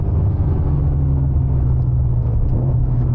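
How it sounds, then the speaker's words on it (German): A Ford Mustang lapping a racetrack at a trackday and running over a curb, heard as a loud, deep, continuous engine rumble with no distinct jolt standing out. "Also du fährst über den Curb, das Auto macht so und ist direkt wieder da"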